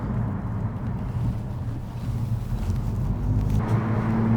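A car with a homemade exhaust system drives along, giving a continuous low engine drone and exhaust rumble from inside the cabin, with wind and road noise mixed in and the pitch rising slightly toward the end.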